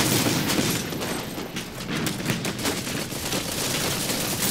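A recon mech fires on a tank mech in the war game Iron Harvest, with dense continuous gunfire crackling in rapid bursts throughout, loud and close, with no voices.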